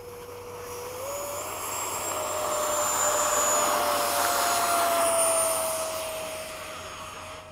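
Jet engine roar from F-16 and F/A-18 fighters taking off in a flight video game, a steady whine rising in pitch as thrust builds, swelling loud through the middle and easing off at the end, no talk over it.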